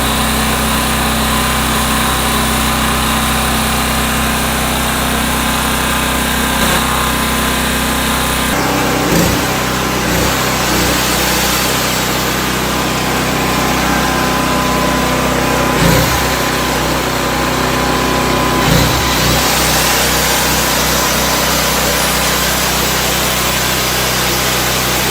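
A home power generator engine runs loudly and steadily throughout, with a constant droning hum and occasional faint clunks and shifts in tone in the background.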